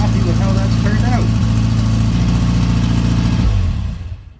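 A car engine idles through a homemade exhaust system and muffler, a loud, steady low rumble with a brief rev near the start, then cutting off and fading out.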